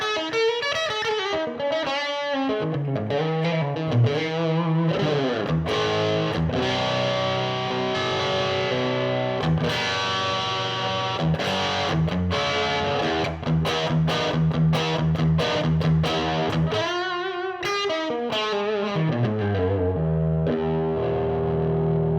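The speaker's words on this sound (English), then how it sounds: "we get this with a lower kind of overdrive setting distortion" Electric guitar played through a Roland JC-40 Jazz Chorus amplifier on a low overdrive distortion setting, sustained distorted chords and riffs ringing steadily and loudly without any talking.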